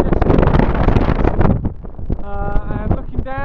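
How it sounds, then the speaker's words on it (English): Strong wind on high Dartmoor moorland buffets the microphone with loud, rough gusts, and a voice speaks briefly over the roar toward the end. "very windy"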